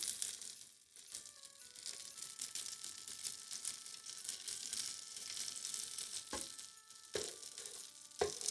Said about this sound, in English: They're still sizzling away.